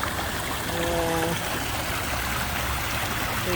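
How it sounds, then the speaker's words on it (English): Water pours from three pipes into a park pond, a loud continuous rushing trickle close by, with a brief tonal hum partway through and no speech. "3 pipes going right into the water."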